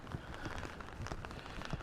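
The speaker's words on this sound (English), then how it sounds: "Rainy mornings can be nice." Rain falls on a rainy morning in Akabane, Tokyo, a dense, steady patter of drops striking surfaces nearby, with scattered louder splats over the continuous wash.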